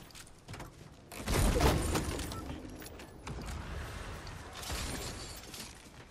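Gunfire in a shooter video game crackles and booms in rough bursts, with a heavy impact near the start and scattered mechanical clatter, steady background noise throughout.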